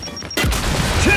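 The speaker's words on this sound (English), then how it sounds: "Throwing grenade!" A grenade thrown in the shooter video game Gears 5 bursts into a sudden loud, broad blast that cuts in partway through and rumbles on without fading for the rest of the moment.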